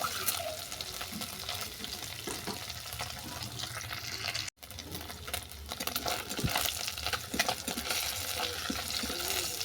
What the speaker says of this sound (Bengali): মাছটাকে আমি আবারও ভেজে নিচ্ছি